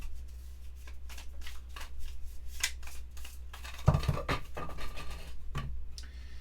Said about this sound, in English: we are going to shuffle in the remainder